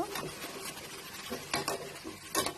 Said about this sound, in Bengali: একইভাবে এপিট ওপিট করে ভেজে নিব।